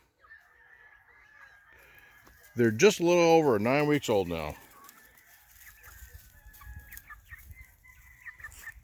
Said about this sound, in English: Here are the Blue Star chickens.